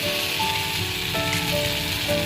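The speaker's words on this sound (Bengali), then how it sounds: "জিরের গুঁড়ো ধনের গুঁড়ো লঙ্কার গুঁড়ো একটু রসুন বাটা আদা বাটা দিয়ে খুব ভালো করে আলুটাকে কষিয়ে নিচ্ছি" Potatoes sauté in mustard oil with cumin, coriander and chili powder plus garlic and ginger paste, giving a steady close sizzle and crackle that runs evenly from start to finish.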